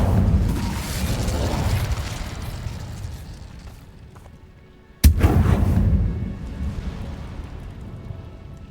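A fire spell is cast in the Hogwarts Legacy game, a sudden loud burst and roaring rush of flames over a background of rumbling combat noise, with no talking.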